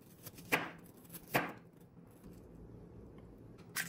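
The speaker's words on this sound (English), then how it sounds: "Then chop into thin slices and into strips." A knife cuts through apple on a board, three crisp chops spaced about a second apart with a fourth at the end, close and clear in a quiet room.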